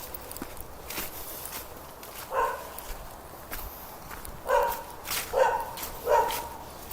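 A dog barks several times, a lone bark followed by three quick barks a little later, over outdoor background noise.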